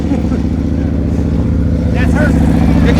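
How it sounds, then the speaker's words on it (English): A motorcycle engine idles and rumbles steadily up close during a slow-speed riding practice session, with a continuous low harmonic drone and a slight rise near the end, under people talking. "Let me move my motorcycle."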